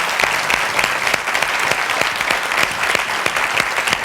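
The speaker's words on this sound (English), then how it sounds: "The ladies are down here clapping." Women in the audience of a fashion show clap loudly and continuously, fast overlapping hand claps forming a dense, close, lively burst that holds steady from start to finish.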